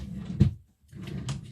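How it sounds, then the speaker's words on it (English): A drawer is opened with a short wooden knock and slide while someone rummages close by. Soft shuffling and clatter of contents follow after a brief pause. "I've been rummaging around in my drawers"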